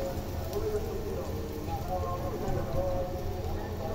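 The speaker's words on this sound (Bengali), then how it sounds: "তারপরে এটা এভাবে ফ্রাই প্যানে দিয়ে দেবে।" Bread soaked in beaten egg sizzles in a frying pan, a steady, fairly faint crackling hiss that runs evenly throughout beneath a voice.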